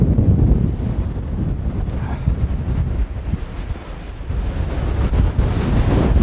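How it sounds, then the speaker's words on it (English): Strong wind roars across the top of a mountain in the Arans range of Wales, buffeting the microphone with a loud, continuous low rumble that swells and eases slightly but never stops. "Really windy up here."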